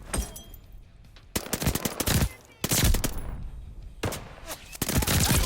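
Bursts of submachine gun fire from an Armaguerra in a video game, several short tap-fired volleys separated by brief pauses, loud and close with sharp reports.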